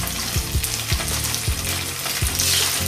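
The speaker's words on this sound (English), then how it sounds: "We have our oil heating up to 300 degrees Fahrenheit and we're just gonna go in and fry these nice and dry" Yam pieces shallow-fry in about a quarter cup of oil heated to 300 degrees Fahrenheit, giving a steady close sizzle with a run of sharp crackles and pops, and no voices.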